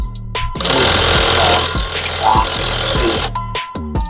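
Canlidi CIW-1000 cordless brushless impact wrench with a 1,000 Nm rating, hammering loudly and steadily for nearly three seconds, with short clicks just before and after.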